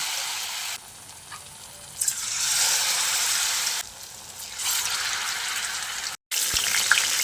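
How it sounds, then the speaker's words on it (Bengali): Ridge gourd flowers deep frying in hot oil make a bright, hissing sizzle that swells and drops in stretches, with brief clatters as pieces are moved, ending in a short cut, no one speaking. "একইভাবে বাকি ফুলগুলোকেও ভেজে নিচ্ছি।"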